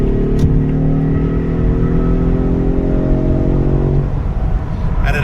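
A Ford Mustang convertible in drag strip mode accelerates hard with a loud, close engine drone rising steadily in pitch, then a quick gear shift near the end breaks into a rougher roar.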